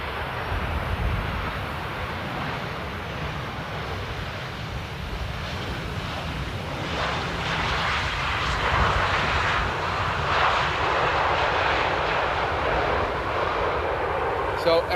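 A jet airliner landing at Amsterdam Airport on a windy day, a broad steady engine roar that swells and stays loud throughout, with wind buffeting the microphone and a person talking over it.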